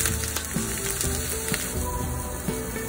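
Steady crackling sizzle of eggplant frying in hot oil, close and continuous, with small pops and bubbling throughout.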